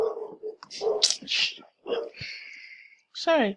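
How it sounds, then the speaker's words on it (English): A dog barks outside during a game session, yips and short barks heard among a person's talking nearby. "That is a dog from outside."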